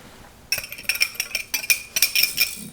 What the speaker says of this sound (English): just mix those round and get them all nice and smooth